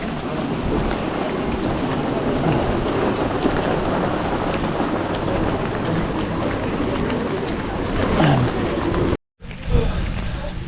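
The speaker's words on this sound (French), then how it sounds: "ça fait quasiment 20 km maintenant qu'on est sous la pluie" Steady, dense rain pours down during a trail race, a constant close wash of drops with a brief cut near the end before it resumes.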